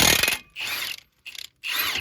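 Power tool spinning out a brake caliper bracket bolt on a 2019 Ford Fusion Hybrid, three loud close bursts of whirring with short pauses between them, no talk.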